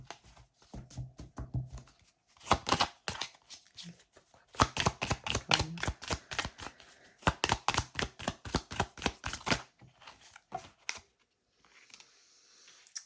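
Tarot cards riffled and shuffled by hand in crisp rapid bursts of clicking flutters, several separate runs close up and fairly quiet, with pauses between.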